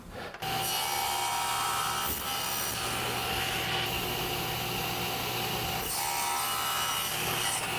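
A table saw cuts through wood pieces with a sustained, loud whirring rasp, the blade's hum shifting slightly as the wood feeds through, with brief dips between passes and no talk.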